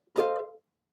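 Single ukulele strum, with the fretboard squeezed and then the tension released, giving a short bright chord that is cut off quickly and dies within half a second.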